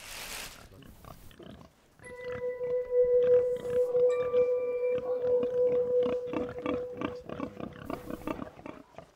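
Acorn-fed Iberian pigs on a farm grunt and snort in short, close bursts, with one sustained squeal-like call running underneath for a few seconds.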